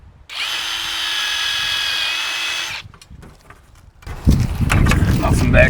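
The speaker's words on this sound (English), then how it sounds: "I am drilling through a sticker that says fresh water drain" Power drill boring through a sticker on a camper's exterior, a steady high whine for about two and a half seconds, then stopping, followed by louder clattering handling noise.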